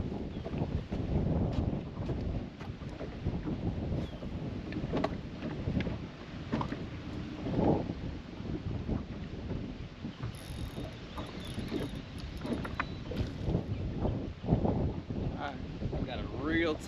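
Wind buffeting a microphone on open water while fishing for crappie from a boat, a continuous rumbling roar with gusty swells throughout, no clear talk.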